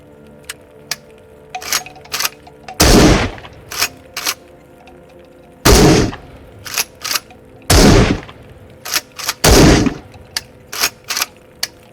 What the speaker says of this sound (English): Now here we have a beautiful IZH-81, a Soviet pump-action shotgun.